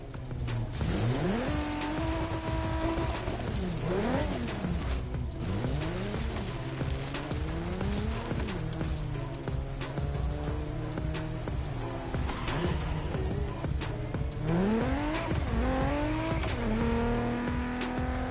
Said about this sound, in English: On commence cette playlist Red Bull par une course de rallycross.